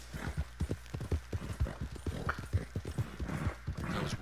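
Steady clip-clop of horse hooves in the Red Dead Online video game, a quick run of close, even beats with an occasional brief whinny mixed in.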